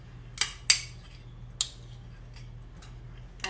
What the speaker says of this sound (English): Mix it around really good and then put it in there.